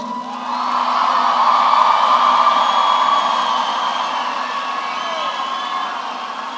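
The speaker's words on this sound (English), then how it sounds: "let's give this wonderful class another round of applause" A graduating high school class at a 2024 commencement ceremony receives sustained crowd applause and cheering. The broad wash of sound swells early and holds steady for several seconds, with whoops rising above the dense clapping.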